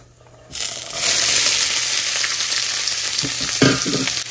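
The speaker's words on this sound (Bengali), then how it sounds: "সবজিগুলো আমি এখানে বানিয়ে রেখেছিলাম, এর মধ্যে আছে রেড বেল পেপার, গাজর আর আলু, এর মধ্যে দিয়ে দিচ্ছি" Red bell pepper, carrot and potato hit hot oil tempered with cumin, bursting into a loud, sustained sizzle after a brief quiet start, with occasional utensil clinks and stirring.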